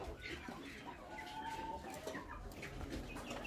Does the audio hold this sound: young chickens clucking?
yes